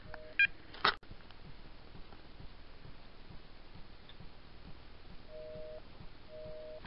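Telephone tones sound during a call with the phone off the hook: a few quick dial beeps at the start, then faint repeated paired tones near the end over a low steady line hiss.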